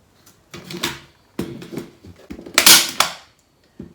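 A hand-held pistol-style tool fires fasteners into a wall in a few sharp, close clacks spread over a few seconds, each dying away quickly into quiet.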